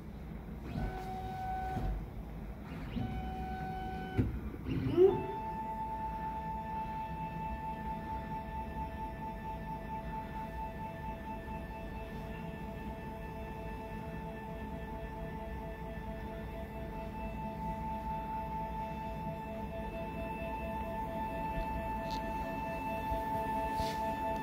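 A Da Vinci Super 3D printer starting up to heat its nozzle and bed before printing gives a few clicks and whirs at first, then settles into a steady, faint electronic hum with sustained tonal whines.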